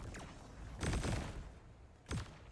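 A Destiny Ikora build setting off a rapid chain of repeated explosions, crackling bursts in quick succession followed by another sharp blast a moment later, loud and close.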